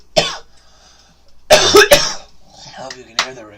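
A few sharp, throaty coughs burst out in quick succession from a nearby person, separated by short pauses, with some breathy vocal noise trailing between them.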